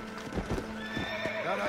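A horse in the Red Dead Redemption video game clops its hooves several times in uneven beats, then lets out a whinny, close and fairly loud.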